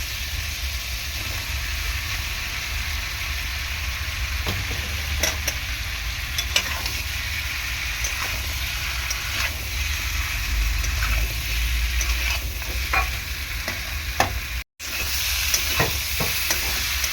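Taro pieces frying in a pan for a fish curry, a steady sizzle running throughout with repeated scraping clicks of a spatula stirring them, close up and without voices.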